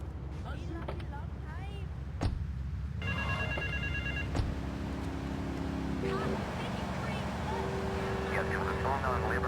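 A payphone rings in the video game GTA 3, its electronic ring repeating in short bursts against a steady city background of traffic and engine hum with a few other game sounds.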